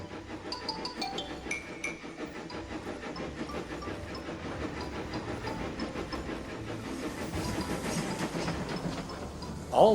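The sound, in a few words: steam engine pulling away with coaches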